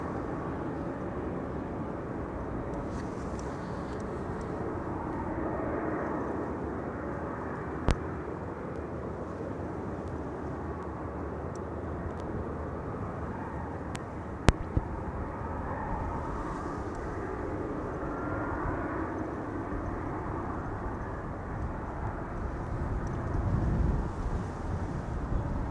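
An airplane approaching to land at Amsterdam Schiphol Airport, heard as a long, steady, distant engine rumble with some outdoor wind noise and faint background sounds.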